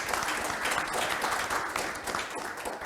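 A forum audience in a hall applauds steadily throughout, a dense even wash of many hands clapping with no pauses.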